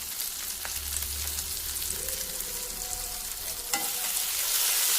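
Lote fish jhuri bhaja sizzling steadily in a hot pan with a few scraping stirs, a continuous close crackle with no talking.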